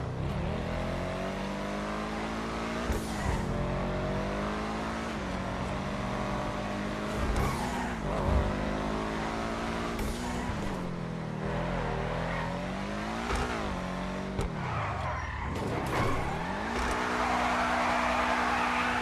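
The Benefactor Schlagen GT sports car in GTA Online drives hard, its engine revving up and down through repeated gear changes with rising and falling tones, loud and close throughout.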